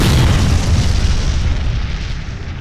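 A loud explosion sound effect opens with a heavy boom, then rolls off into a long, rumbling low decay. It stands alone with no talk.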